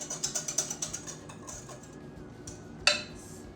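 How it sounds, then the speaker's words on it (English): Metal whisk clicking quickly against a bowl while mixing pudding mix with cold milk, a rapid run of light ticks that fades into softer stirring, then one sharp clink near the end. "we want to Stir that together till it thickens up."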